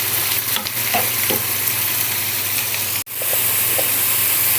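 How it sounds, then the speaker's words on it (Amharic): Chicken fries in table butter with a loud, continuous hissing sizzle close by, a few light stirring scrapes, and a brief dropout partway through before the frying roars on. "እንደዚህ እንጠብሰዋለን።"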